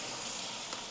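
Shrimp frying in a pan with a little water still in them give a steady close sizzle and hiss, continuous through the short moment with no talk.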